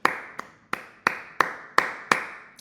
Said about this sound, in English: Gotta clap for them.